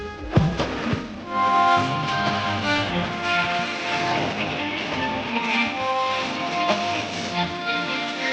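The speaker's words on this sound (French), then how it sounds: "ce qu'on entend cette fois, c'est un chant de victoire" A dense, busy recording of a football victory chant with many layered voices and instruments, like a crowd-sung anthem, steady and fairly loud throughout.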